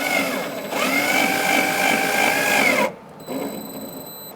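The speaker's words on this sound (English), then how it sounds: "now we're going to put our screws to connect our bumper to the body" A power tool whirs steadily for close to three seconds, driving screws to fasten the bumper to the body of a 2010-2013 Kia Soul, then stops and leaves a quieter, higher whine.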